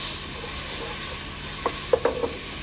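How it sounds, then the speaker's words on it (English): Ginger garlic paste stirred into soft onions frying in butter for pav bhaji, a low steady sizzle with a few short spoon scrapes and clacks near the end, close by and fairly quiet, no talking. "So now I'm going to start by adding the ginger garlic paste. Mix it."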